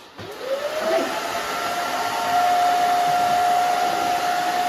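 A hair dryer blows close and loud on the back of a short haircut, rising from a brief start into a steady whine that stays constant to the end.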